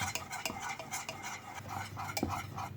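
A spoon stirring a spoonful of butter into thick, boiling milk custard pudding in a pot: rhythmic scraping and soft clinks against the metal, close and moderately loud, with no talking.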